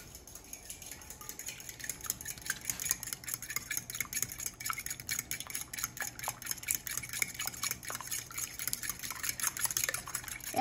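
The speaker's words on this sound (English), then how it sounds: "And let's whisk the eggs." Eggs are beaten in a bowl with a whisk, giving a fast, continuous rapid clatter and wet ticking against the bowl, close but fairly quiet, with no speech.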